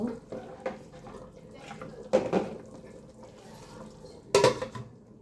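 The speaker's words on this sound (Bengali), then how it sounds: "এখন আমি একটু ভালোভাবে পারফেক্টলি নেড়ে চেড়ে ঢাকনা দিয়ে ঢেকে দেব।" Beef being stirred in a pot, a few scraping and knocking utensil strikes against metal, then a sharper clank of a lid set on top near the end, close and moderately loud with quiet gaps between.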